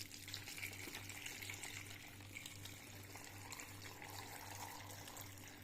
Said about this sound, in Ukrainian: Заляли наш маринад і накриваємо листочком.